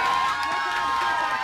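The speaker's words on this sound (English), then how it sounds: "I don't know if it's stock or whether they hired a cinema worth of people" A stock crowd-cheering effect of a cinema audience, with a burst of mixed shouts and whoops rising together, loud and close, with overlapping voices throughout.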